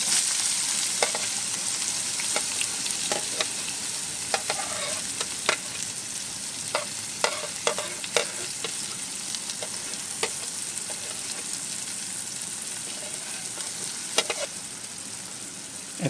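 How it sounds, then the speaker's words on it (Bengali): Onions fry in oil until light brown, a soft steady sizzle dotted with scattered pops and crackles, fairly quiet and close with no voices. "এখন এইগুলাকে সুন্দর করে হালকা বাদামি করে করে ভেজে নিতে হবে।"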